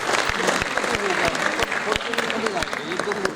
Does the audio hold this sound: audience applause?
yes